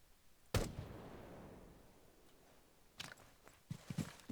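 A single sharp rifle shot in Rainbow Six Siege, close and abrupt with a decaying tail, followed by a few softer thuds and clicks.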